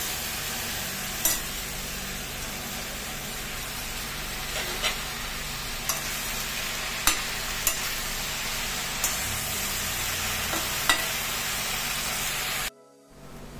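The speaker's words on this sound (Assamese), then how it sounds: "গোটেইখিনি ভালদৰে লৰাই দিছোঁ" Turmeric powder and greens being stirred in a frying pan, a steady sizzle with scattered scraping clicks from the spoon, close and continuous, ending in a brief drop to near silence.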